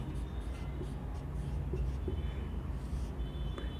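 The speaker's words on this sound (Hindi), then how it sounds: "अभी मैं एक नोट डाल के लिख रहा हूं।" Pen or pencil writing a note by hand on paper while preparing teaching aids, with steady scratchy strokes and light shuffling throughout, fairly close and continuous against a low background hum.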